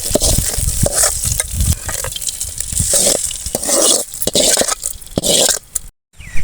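Dried red chillies and cumin tempered in hot oil, crackling and sizzling close up under busy stirring and scraping, with a brief silent break near the end.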